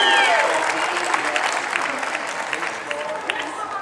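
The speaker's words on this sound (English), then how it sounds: "So let's give Elizabeth a big round of applause." A crowd applauds outdoors at a charity walk to end Alzheimer's in Muskegon, a dense, steady wash of clapping that fades slightly over a few seconds, with faint voices mixed in.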